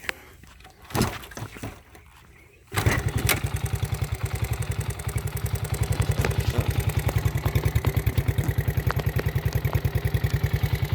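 A 1971 Honda SL70 motorcycle is kicked over cold on choke and settles into a steady, close putter at idle, with a couple of clunks before the engine catches at about three seconds.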